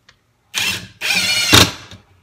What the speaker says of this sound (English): Let's start driving some screws into this block of wood and see how it performs.